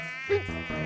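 A cartoon housefly or venomous bee buzzes in a steady, close, tonal drone that swells briefly, with no talk over it.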